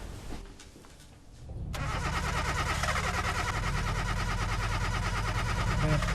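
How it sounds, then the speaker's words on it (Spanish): A car engine cranks without catching, a dense, continuous mechanical churning that rises after a brief quieter stretch and stays loud and close for several seconds. "el coche no arranca"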